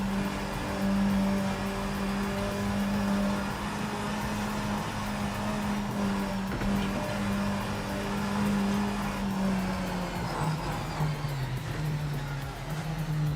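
A Mustang race car engine in Project Motor Racing drones steadily at close range, a sustained harmonic roar that holds nearly constant pitch, then dips briefly near the end as it eases off before pulling again, with no voices.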